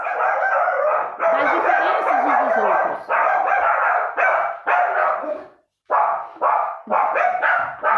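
Several small dogs bark in rapid, excited bursts, loud and close, with a rooster-like crow mixed in and a brief pause before the yapping resumes.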